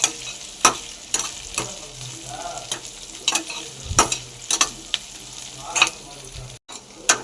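Green chilies and curry leaves sauté with onions in a pan for poori masala: a steady close sizzle broken by repeated sharp spatula scrapes and clinks against the metal, with no voices.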